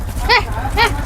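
Two loud, drawn-out cow moos, close by, each lasting about a quarter second with a brief pause between them, heard in a Gujarati village setting with no speech over them.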